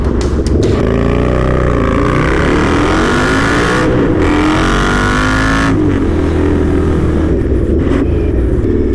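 An Indian Scout Street Hooligan motorcycle by Krazy Horse runs inside a motorway tunnel, its engine loud and echoing throughout, with throttle swells and gear changes over a constant reverberant roar.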